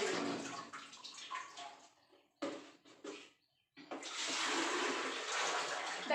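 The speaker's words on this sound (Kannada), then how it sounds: "ದಿನ ನಾವು ನೀರು ತುಂಬ್ಕೊತೀವಿ." Water being poured into containers for daily household use, bursts of splashing and filling with short pauses between them, fairly close and alone without talk.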